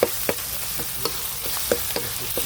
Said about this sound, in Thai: มา ทำการผัดต่อครับ ผัดต่อครับ